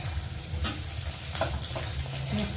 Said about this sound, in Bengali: দেখতে পাচ্ছেন এখন আমি ভাজছি পেঁয়াজটা ভালো করে।